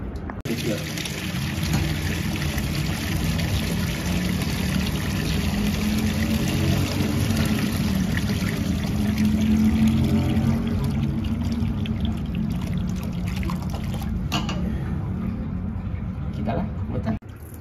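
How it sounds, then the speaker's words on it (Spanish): Water and loosened scale sediment pour steadily from an opened drain valve on a water heater boiler, a continuous rushing trickle that lasts throughout, with someone talking over it. "vamos a quitar esta llave y vamos a ver cómo va a salir todo lo que es el sarro o sedimentos"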